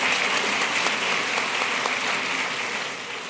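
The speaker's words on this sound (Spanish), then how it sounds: "vamos a recibir con un aplauso, por favor" An audience at a church leadership panel applauds to welcome a pastor, a dense steady crowd clapping that holds strong and fades slightly toward the end.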